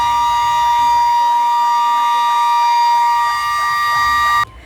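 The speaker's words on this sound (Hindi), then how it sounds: "वहीं अचानक ही बैंक से सायरन की आवाज आने लगी।" Bank alarm siren sounding loudly and continuously, a steady electronic tone with a rapidly repeating warble that cuts off abruptly near the end, with no speech over it.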